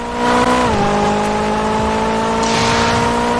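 A Ferrari engine in the Roblox game Driving Empire drones steadily and loud throughout a race, holding a sustained tone that dips in pitch briefly as if shifting gear, then carries on without letup.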